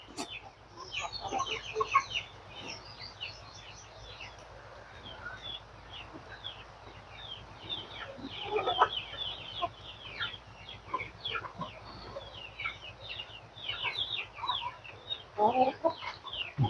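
Chickens cluck and chatter throughout, a busy flock close by with overlapping calls that swell at moments.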